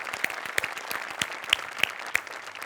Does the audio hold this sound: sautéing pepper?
no